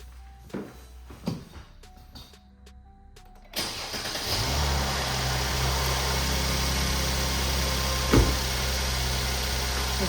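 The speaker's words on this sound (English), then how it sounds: "I'm gonna start the car from the inside." A few clicks and clunks, then a Mercedes-Benz GLK350 4MATIC engine cranks and catches, settling into a steady, loud warm-up idle with a brief bump in revs.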